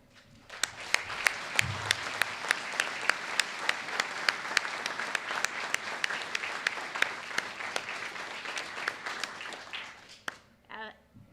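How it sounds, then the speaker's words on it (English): Sustained audience applause at a veterans nursing home dedication ceremony in North Idaho, dense clapping from a large crowd that holds steady for about ten seconds, then trails off into a few scattered claps. "please join me in another round of applause"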